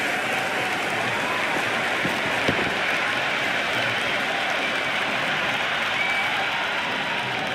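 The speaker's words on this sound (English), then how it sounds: "There's a buzz, a real buzz coming from the stands." Cricket stadium crowd at a T20 match cheering and applauding steadily after a six, forming a dense, loud, continuous roar of clapping and voices from a large audience.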